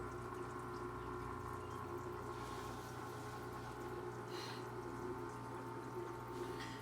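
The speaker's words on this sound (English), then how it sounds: "I do have some air bubbles coming out just to oxygenate it a little bit" Airstone bubbles and a Sun 304B filter in a 75-gallon goldfish tank give a faint, continuous watery hum and fizz, steady throughout with no pauses.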